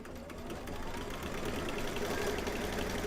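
A sewing machine quilting a table runner runs in a steady, even mechanical hum with fine rapid stitching rhythm throughout, fairly faint and continuous, with no talking.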